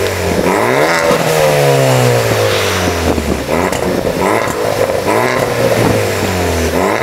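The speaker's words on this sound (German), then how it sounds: "mache die Karre an, puste einmal richtig durch" Ford Focus ST with a new exhaust and software revving in a garage, loud, close blips rising and falling in pitch several times in succession, with no talk.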